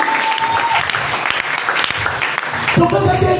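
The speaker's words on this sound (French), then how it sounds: "Acclamez le Seigneur Jésus." Applause from a church congregation during a French-language sermon, a dense, steady clapping that fills the whole stretch, with a voice speaking over it.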